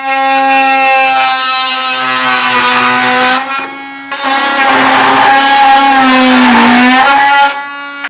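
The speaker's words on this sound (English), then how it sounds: "I'm going to just use an oscillator tool and cut as close as I can" Oscillating multi-tool cutting through the heat shield under a 2021 Chevrolet Silverado truck bed, a loud, steady, harsh buzzing whine held for several seconds, pausing briefly and then resuming, with no talking.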